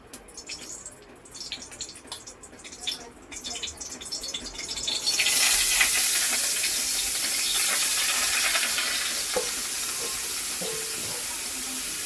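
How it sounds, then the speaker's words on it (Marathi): Quiet rustling gives way to a sudden loud sizzle as grated raw mango hits hot ghee, frying steadily and hissing for the rest. "तूप कढई गरम झालेली आहे. आता आपल्याला ही किसलेली कैरी टाकायची आहे"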